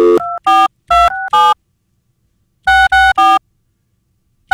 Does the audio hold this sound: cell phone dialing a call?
yes